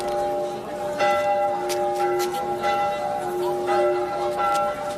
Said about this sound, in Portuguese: Os sinos confundiam os seus toques a chamar os fiéis